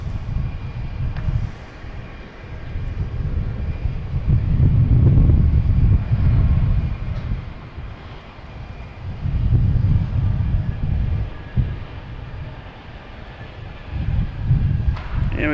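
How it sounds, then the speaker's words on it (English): An Airbus A220 airliner arriving from Tampa at Boston Logan Airport gives a steady, loud low roar that swells and fades in long waves as it passes, with no talk over it. "All right, here's that Tampa flight. A220, flight"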